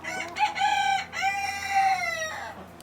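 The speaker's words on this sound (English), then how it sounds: "The chickens." Backyard homestead chickens, a rooster crowing loudly and close alongside hens clucking, all in one continuous call.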